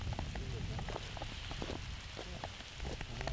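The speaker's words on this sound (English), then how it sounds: "it's a battle playing in the rain" Rain falls on a course during a disc golf tournament, a close, steady patter with scattered drops tapping on surfaces.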